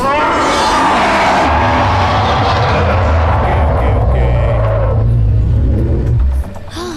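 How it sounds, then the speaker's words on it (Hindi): A Chevrolet car's engine runs with a loud, steady low rumble through most of the scene, swelling and then cutting off near the end, with other film sounds layered over it. "तुम भैंसे की जगह ये शेवरले गाड़ी कैसे चलाते हो?"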